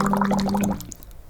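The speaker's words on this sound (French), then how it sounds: "vous allez faire des bulles régulières" Bubbles blown steadily through a straw into water, a close, continuous low bubbling burble lasting most of a second before trailing off into quiet.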